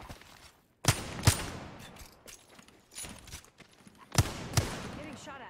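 Gunfire in the Apex Legends video game, two pairs of sharp, loud shots about a second apart, with scattered fainter pops and game clatter between them.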